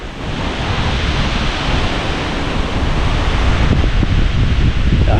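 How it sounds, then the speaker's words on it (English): Strong wind roars steadily outdoors on the grounds of an abandoned old cemetery, a loud, unbroken broadband rush that gusts a little harder toward the end, with no talking. "Wow, wind."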